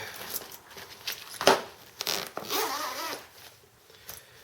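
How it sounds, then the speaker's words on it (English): A zipper on a Sleepy Pod pet car seat carrier is pulled closed all the way around, giving a run of close, crisp ratcheting zips in several strokes, with pauses between them and no talking. "And zip all the way around."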